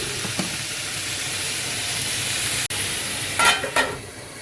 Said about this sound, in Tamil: நல்லா இதை வதக்கணும்.